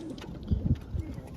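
A few low, soft pigeon coos sound close by in quick succession, muffled and brief, with no talking.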